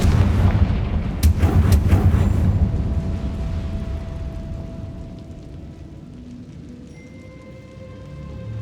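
A Confringo explosive spell in Hogwarts Legacy blasting a barricade, a heavy booming impact with crackling debris at the start, then a long, slowly fading rumble with faint tonal hums as it dies away.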